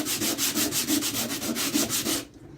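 Coarse iron sandpaper wrapped on a wooden block rubs back and forth across a cement vase in quick, regular close strokes, about five per second, stopping abruptly near the end.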